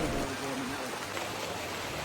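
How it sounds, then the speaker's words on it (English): Heavy rain pouring down in a Dominican Republic rainforest near Samaná, a steady broadband hiss of drops on foliage and ground, continuous and close throughout. "the rain started to really pour"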